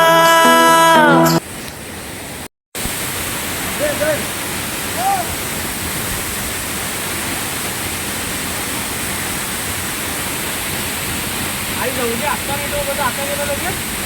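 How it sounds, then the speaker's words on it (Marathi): A brief burst of music gives way to a steady, roaring rush of falling water that continues evenly and loudly throughout. "सुंदर असं हे दृश्य आमच्या इकडचा धबधबा"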